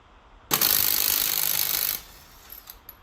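An impact gun loosening car wheel nuts: one loud, close burst of rapid hammering rattle lasting about a second and a half, followed by faint clicks and small knocks, with no talking.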